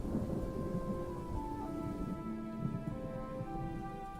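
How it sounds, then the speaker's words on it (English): Thunder rumbling in the video game Necromancer's Tale, a heavy low roll sustained throughout with a rain-like wash and faint tonal music above, loud and continuous with no talk. "The moment my foot landed inside the academy, a crack of thunder struck my back"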